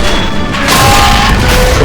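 A destroyed armoured personnel carrier explodes in a war video game, a loud broad boom that rumbles on continuously among other battle noise.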